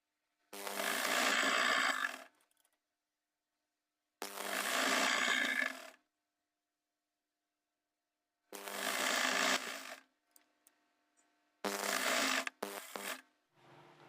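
A sewing machine stitches a trouser seam with a half-inch margin up to the crotch, running in four loud bursts of about two seconds each, separated by silent pauses, with a few short stuttering runs near the end.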